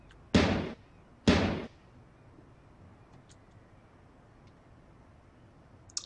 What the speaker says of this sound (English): if you want to get rid of a block, you hit space. It explodes.